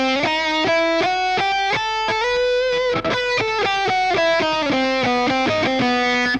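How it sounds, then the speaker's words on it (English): Distorted electric guitar picks a fast run through a Phrygian dominant scale, steady rapid notes with an exotic Middle Eastern flavour, loud and alone. "I realized that what we have is what's called a Phrygian dominant scale, and essentially it sounds like this"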